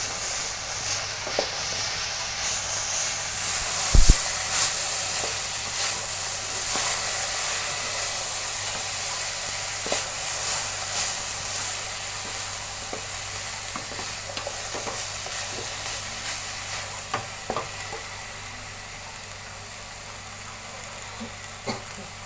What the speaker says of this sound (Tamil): ஆனியன் நல்லா வதக்குங்க.